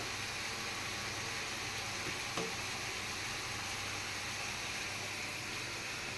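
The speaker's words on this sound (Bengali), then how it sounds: "এই চুলাতে আমি মশলা কষাই নিছি ভাজা তেলের মধ্যেই" Spices frying in hot oil in a pan on the stove, a steady, even sizzle that holds at a constant level throughout, with one faint tap partway through.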